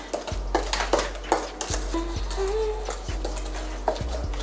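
Carrot cake batter being mixed by hand as dry ingredients are worked into the wet in a bowl, with repeated utensil clinks and scrapes against the sides in an uneven stirring rhythm, close and fairly clear.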